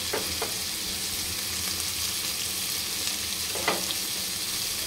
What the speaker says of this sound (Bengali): আলুটার সঙ্গে পেঁয়াজটাও দিয়ে দুটো ভাজা ভাজা করছি একসঙ্গে।